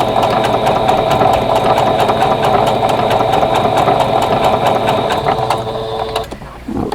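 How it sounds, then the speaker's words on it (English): An embroidery sewing machine stitches over a single layer of fabric, a loud, rapid mechanical whirring and clatter with a steady rhythm that slows and stops near the end. "right now I'm just sewing over one layer of fabric."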